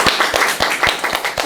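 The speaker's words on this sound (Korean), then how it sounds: "박수 한번 주세요." Clapping at a Korean middle-school debate contest, a short burst of a few hands beating in an even, fairly quick rhythm, close and clear with no talk.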